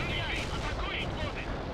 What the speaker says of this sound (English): Let's drop some fucking artillery on this and push up.